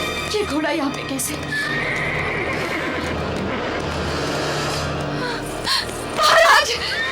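A horse in a devotional drama scene gives a loud, near neigh late in the clip, over hoof clip-clop and a dense dramatic background soundscape.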